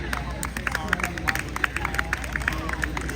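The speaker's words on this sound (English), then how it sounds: "Now everyone can start clapping because the poem's done." An audience at a New York City poetry festival claps after a poem. The applause is scattered and fairly rhythmic, with crowd chatter mixed in.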